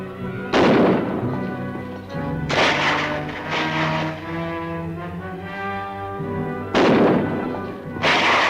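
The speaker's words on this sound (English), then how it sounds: "That's gunfire." Loud gunshots ring out in a few separated bursts, each booming blast trailing off with echoing reverberation under a tense musical score.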